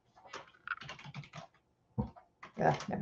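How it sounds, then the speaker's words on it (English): Close, quiet typing and mouse clicking on a computer in short irregular bursts, with a brief pause in the middle. "just clicking on something there"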